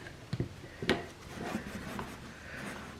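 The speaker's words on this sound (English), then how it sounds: "Scrape down these sides." A spatula scrapes the sides of a bowl of thickened soap batter, making a few soft, close rubbing strokes and brief scrapes over a quiet background.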